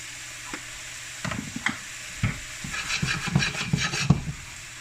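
Tofu is stirred around a sizzling pan, with scraping and tapping strokes over a steady fry hiss that grows busier toward the end.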